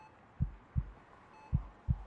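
Two pairs of low, thudding heartbeats sound close and clear as a lub-dub rhythm over a faint hum, a dramatic sound effect in a horror audio story with no talking.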